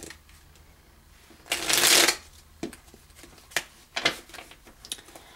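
Tarot cards being shuffled for a clarifying draw: a loud riffling burst, followed by several shorter flicks and card snaps, close up.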